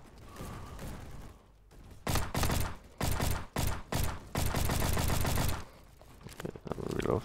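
A gun fires in the video game Bad Business in several rapid loud bursts of automatic shots, separated by short pauses, with quieter mechanical sounds before and after.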